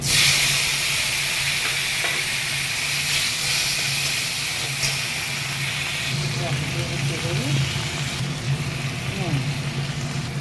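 Tomato dropped into hot oil after a nigella seed tempering, giving a steady bright sizzle and hiss with some stirring, while someone talks over it.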